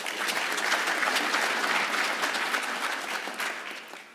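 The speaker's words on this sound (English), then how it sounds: "I think a round of applause for that." A conference audience at an engineering event applauds a speaker, dense, fairly loud clapping that holds steady and then tapers off toward the end.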